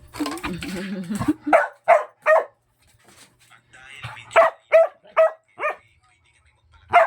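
A dog barks in short sharp bursts, close by, in two clusters of several barks, with a person speaking briefly at the start.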